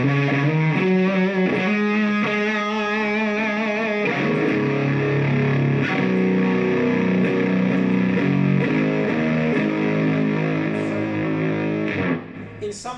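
Electric guitar played through an overdrive distortion pedal, ringing out thick, sustained, gritty chords and notes for about twelve seconds before cutting to brief quieter plucks at the end.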